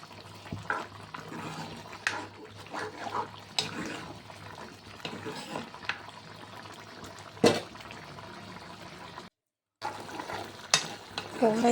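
Masala powder gets stirred into an egg curry in a pan, giving continuous scraping and swirling sounds, a simmering wet sizzle and occasional sharper clacks from the spoon hitting the pan, with a brief silent gap near the end.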